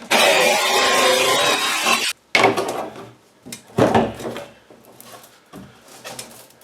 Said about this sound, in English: I'm going to go ahead and finish cutting the door off.